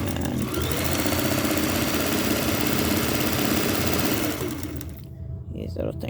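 A Kenmore 1813 sewing machine motor running steadily up close with a smooth, even hum and rapid mechanical chatter, then slowing and fading near the end, followed by a few faint clicks.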